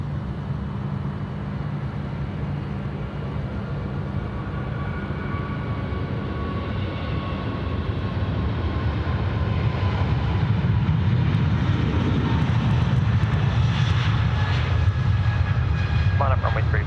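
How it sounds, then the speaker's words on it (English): An Emirates airliner approaches Sydney Airport, a broad low roar that builds gradually and stays steady at a distance. A voice is heard faintly over it. "The Emirates now coming hard and fast from the left, behind the trees."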